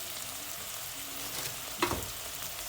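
Chopped tomatoes and tomato paste fry with a soft, steady sizzle in a pan, fairly faint, with one brief stirring clatter partway through.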